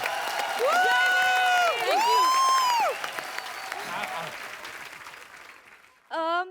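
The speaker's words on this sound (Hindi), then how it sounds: "जोरदार तालियां।" Studio audience applause and cheering for a comedy skit, a loud crowd clapping under bright musical tones and sung or shouted voices, fading toward the end before a sudden sharp burst.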